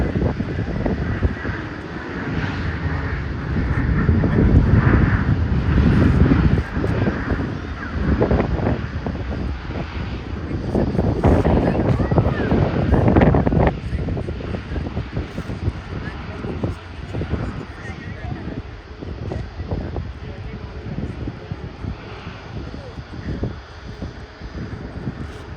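Airliner, a Dash 8, arriving or departing, its broad roaring engine noise steady and loud for the whole stretch, swelling midway then easing slightly, with wind buffeting the microphone and a voice talking over it.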